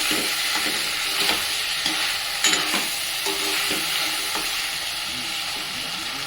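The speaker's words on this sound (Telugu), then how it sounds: "ఇప్పుడు కలుపుకుందాం ఓకేనా ఇవి ఇప్పుడు బాగా మగ్గాలన్నమాట" Brinjal and potato curry stirred as it fries in a pan, a steady close sizzle with scraping spoon strokes repeating throughout.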